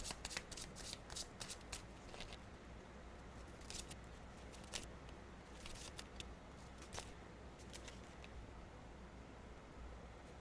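Tarot cards being shuffled and drawn by hand, close and continuous, with crisp riffling bursts and soft sliding rustles throughout.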